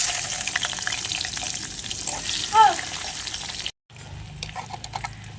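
Onions hit leftover fish-frying oil seasoned with cumin, producing a loud bubbling sizzle that cuts off abruptly and resumes as a quieter, crackling fry.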